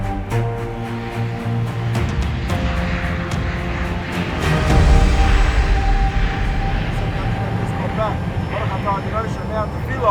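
The engine of a medical jet fitted out like an ICU drones steadily in flight, a loud broadband cabin roar with low hum, while a person talks over it.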